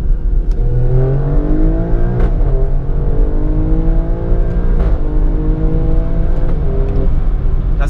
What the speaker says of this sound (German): Ich fahre quasi raus, schalte 2 Gänge runter.